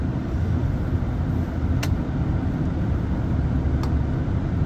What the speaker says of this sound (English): unfortunately, we're famous for traffic here in Palermo